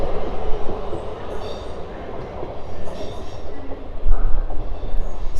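A train runs over railway points on the South Western Main Line at Basingstoke, giving a steady close rumble of rolling wheels with a heavier clunk about two-thirds of the way through.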